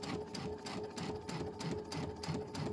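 A sewing machine back stitches while joining the edges of a Christmas quilt project, running close by in steady, rhythmic bursts of rapid needle chatter over a low motor hum.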